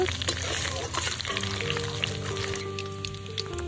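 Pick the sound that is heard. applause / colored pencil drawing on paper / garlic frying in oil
garlic frying in oil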